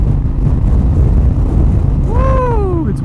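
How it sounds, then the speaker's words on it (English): Heavy wind buffets the microphone in a steady, loud rumble while riding a Harley-Davidson Iron 883 motorcycle along Route 66, with a rider's voice letting out a short whoop near the end. "woo, it's windy"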